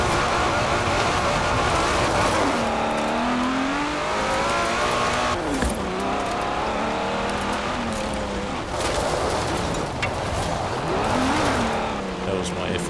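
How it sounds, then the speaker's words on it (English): Aston Martin DBS 2008 James Bond Edition in Forza Horizon 4 attempting a handbrake turn: engine revving up and down with tire squeal, loud and continuous. "That was my effort at a handbrake turn."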